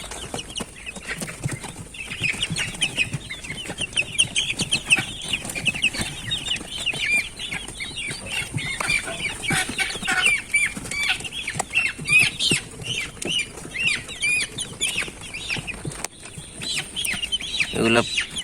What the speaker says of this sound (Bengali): আমাদের মিশরি ফাউমি মুরগিগুলা